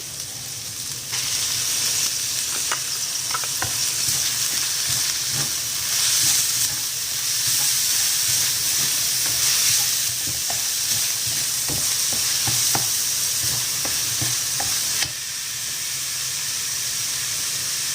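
Sliced onions sizzling in hot oil in a pan, with steady close frying hiss and scattered scraping clicks as they are stirred throughout.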